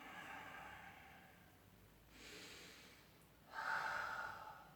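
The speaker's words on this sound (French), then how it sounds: "Faites 3 ou 4 grandes respirations." Deep, slow breaths taken during a Pilates stretch, three long airy inhales and exhales, quiet and close with short pauses between them.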